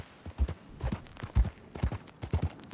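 Horse hooves clip-clop at a steady walking pace in the Red Dead Redemption 2 video game, about six distinct thudding footfalls over a few seconds, fairly close with a faint background bed.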